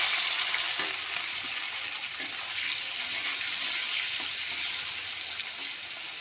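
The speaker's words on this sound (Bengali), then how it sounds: "পেঁয়াজ আর টমেটো একসঙ্গে ভেজে নেবো" Onion and tomato fry together with a bay leaf in oil, producing a loud, continuous close sizzle with faint scraping stirs throughout and no talking.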